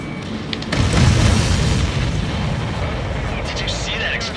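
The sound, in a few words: explosion of aircraft shot down in video game Ace Combat 7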